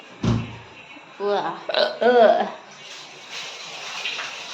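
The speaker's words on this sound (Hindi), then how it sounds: "या हिचकी क्यों आ रही है मेरे को?" A single sharp hiccup sounds close up at the start, followed by someone talking in a home kitchen.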